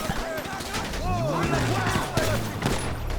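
Gunfire in GTA V during a heist mission, scattered shots crackling amid a busy game mix of whistling tones and effects, with talk running over it.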